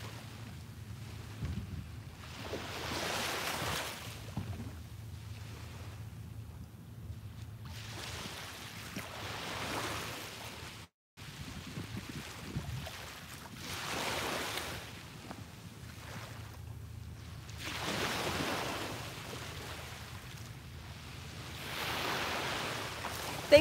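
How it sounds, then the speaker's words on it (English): Ocean waves at sunrise roll in and wash out in slow, regular surges about every five seconds, each building to a soft hiss and fading, with a low steady rumble and some wind underneath. "soak in the colors and the sounds of the waves"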